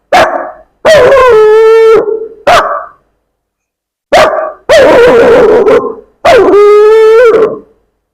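A man imitates a local dog with voiced barks and long wavering howls, six loud, close bursts separated by short pauses.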